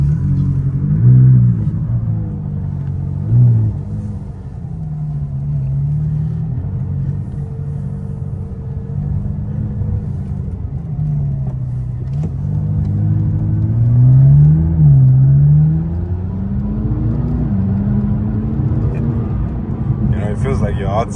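Cabin of a McLaren 570S supercar on the move, with a steady low engine rumble that swells in a few brief surges of acceleration while people talk throughout.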